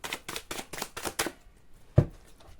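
Quick rhythmic riffling of tarot cards being shuffled, six rapid flutters, then a single soft tap as the deck settles, close and quiet.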